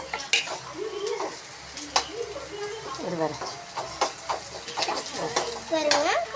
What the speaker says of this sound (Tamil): சிறுபருப்பு, தக்காளி, பூண்டு போட்டு நல்லா வதக்கிக்கணும்